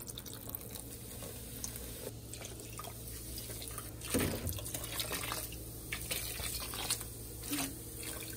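Vinegar is poured onto broccoli, a faint, soft trickle and patter of liquid with scattered drips, quiet and close, swelling briefly about halfway through.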